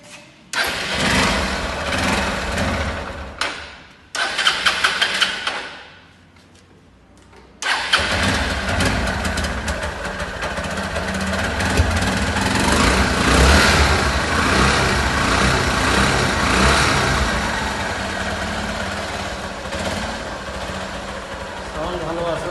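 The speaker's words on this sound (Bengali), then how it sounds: "বাইকের সাউন্ড দেখাবো এবার" Hero Hunk double-disc motorcycle engine cranks and fires, stumbles into a brief near-silent gap, then catches and runs steadily with sustained loud revving up close for the rest.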